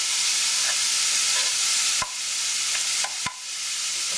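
Onions and carrots frying on a hob for ragu alla Bolognese, with a dense, even sizzle and a couple of sharp knocks from the pan or utensil, close and fairly loud.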